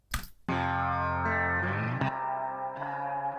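An electric sitar layer runs through a space echo effect, bright twangy sustained notes that shift pitch in a few steps, with a short buzzing pluck at the start and echoing tails, alone and fairly loud.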